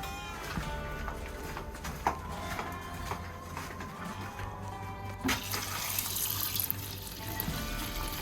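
Water pours steadily into a rabbit hutch's nipple drinker system for several seconds, a continuous rushing splash with a few clinks and knocks along the way.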